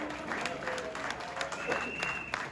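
Audience applause at a political rally, steady clapping from a crowd with a few whistles cutting through, fairly loud throughout the short stretch.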